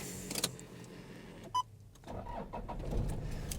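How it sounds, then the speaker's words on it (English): A short chime beeps, then a 1998 Toyota Hiace turbo diesel 4WD van engine cranks and catches, settling into a low, steady idle rumble nearby. "let's start it up and go for a little drive"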